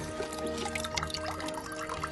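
A bucket scoops water at a wetland, giving a brief, close swirl of sloshing and trickling, moderately quiet, with liquid pouring and dripping throughout.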